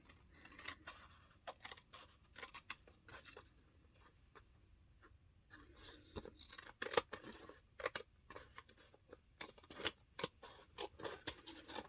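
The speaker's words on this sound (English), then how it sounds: "Now we're going to cut this way." Scissors cut paper for a handmade journal book pocket, giving a close, quiet run of snips and sharp clicks in irregular bursts with short pauses, and no voices.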